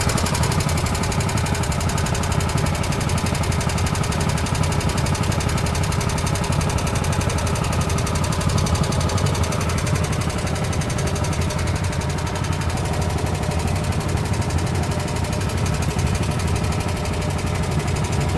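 A boat engine drones steadily on the Saigon River, a loud, constant low mechanical chugging that runs unbroken throughout without pause.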